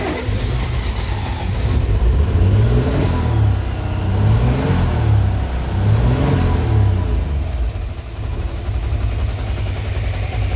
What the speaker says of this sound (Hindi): अभी हम लोग गाड़ी स्टार्ट करते हैं।